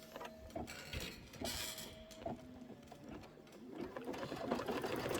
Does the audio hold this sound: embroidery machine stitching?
yes